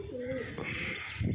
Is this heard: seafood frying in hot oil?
no